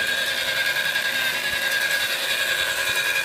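A power polisher working marble with 800 grit pads in a crisscross pattern, a steady high whine with a rough grinding hiss, constant and close throughout.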